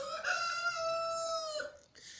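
A newly acquired rooster lets out one clear, close crow, a drawn-out rising and falling call lasting over a second, then falls silent.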